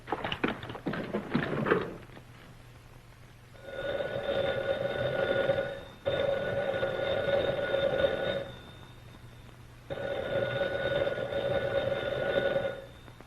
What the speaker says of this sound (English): It rang, and I took off the receiver unthinkingly, but I haven't spoken into it.